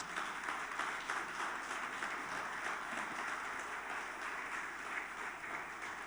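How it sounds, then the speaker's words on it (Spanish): A church congregation claps in faint, distant, even applause that holds steady and is soft throughout, with no voices over it. "Dale un aplauso al Señor entonces."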